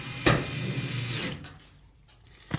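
A cordless drill drives a screw into a clothes dryer panel: a short close whir that winds down after about a second, then quiet, with a faint click or tap at the end.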